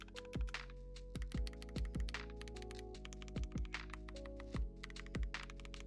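Clacky, loud keystrokes on a computer keyboard come in irregular bursts of sharp clicks and thunks, each key press close and distinct over a faint steady hum.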